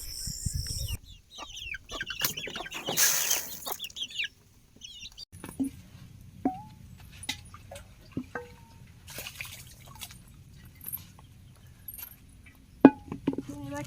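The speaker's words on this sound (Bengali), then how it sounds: "এরপরে মুরগিকে খাবার দেবো" Chickens cluck intermittently at feeding time in a village yard, producing scattered short close calls with rustling and small clinks between them, and a few louder sharp sounds near the end.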